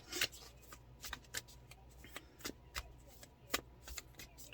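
Cards being shuffled and drawn for a card reading, a soft near run of irregular flicks and snaps with quick riffles, some louder slaps spaced through a quiet room.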